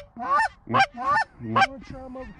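Geese honking in flight near a hunting spot, four or five loud, nasal, two-part honks in quick succession close overhead, with no other sound between them.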